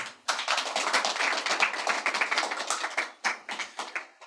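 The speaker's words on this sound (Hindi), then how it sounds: "तो गुजारिश करूँगा एक बार अपने लिए तालियां बजा लें।" A small audience at a poetry reading claps for itself, the clapping starting abruptly, running dense and close for about three seconds, then thinning into a few separate bursts before fading.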